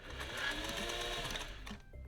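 A sewing machine whirs in a short, close back-stitching burst on a sweater stocking, then stops abruptly.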